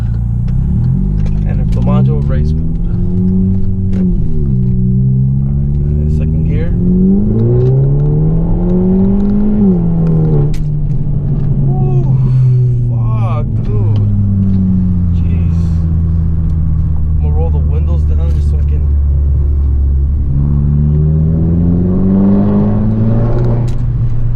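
Turbocharged 2018 Hyundai Elantra Sport engine fitted with an AFE Scorcher module, accelerating hard in first gear in sport mode, its rising drone loud and continuous from the cabin while someone talks throughout.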